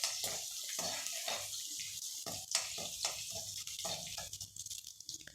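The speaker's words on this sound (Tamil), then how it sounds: "இது நல்லா பொரியட்டும்." Crushed garlic sizzles in hot oil in a pan for a Tamil potato podi fry, a continuous crackling hiss with small bursts of spitting throughout, no voices.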